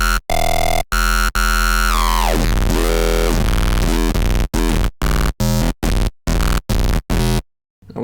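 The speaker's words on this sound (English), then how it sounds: "Oh, we can do laser sounds." Synthesized laser sounds built in Ableton for a complextro drop: loud, harsh electronic bursts with sweeping pitch drops and chopped stuttering hits, ending in a short silence.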